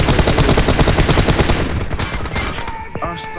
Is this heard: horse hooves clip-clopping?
no